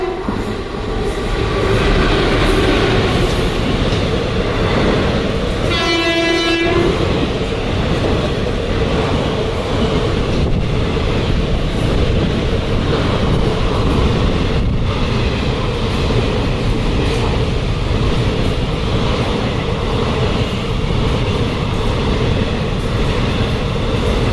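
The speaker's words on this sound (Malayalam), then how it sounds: "ട്രെയിൻ അവിടെ നിന്ന് വന്നുകൊണ്ടിരിക്കുകയാണ്" The Mangalore–Thiruvananthapuram Express roars through Pookunnam railway station at speed without stopping, loud and continuous with rumbling wheels and rattling carriages, and a short horn-like tone sounds briefly early on.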